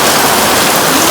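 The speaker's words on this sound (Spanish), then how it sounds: "mira cómo está lloviendo" Heavy rain pours down in a sudden storm on a street, a loud, dense, unbroken hiss of water hitting surfaces close by, with no voices heard.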